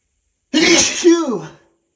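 A single loud sneeze close up, a breathy burst trailing off into a voiced tail, with no other sound around it.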